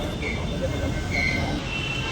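A Noida metro train rumbles along with a steady, loud rolling roar and faint squeals from the rails, heard from inside the carriage throughout.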